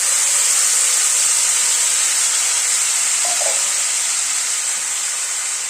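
Masala paste with curry leaves and fenugreek seeds hisses loudly in hot oil over a medium flame for a paneer curry, a dense, unbroken close-up sizzle that barely changes.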